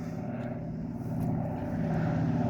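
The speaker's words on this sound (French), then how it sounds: "Ah, c'est des vieux avions, ça." Old vintage airplanes droning steadily in the distance, a low continuous engine hum that swells slightly louder partway through, with no talking over it.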